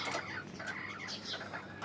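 Desi country chickens cluck softly in short, scattered calls over a low steady background, fairly faint and close by.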